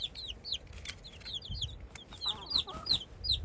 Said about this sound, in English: I think they're all roosters.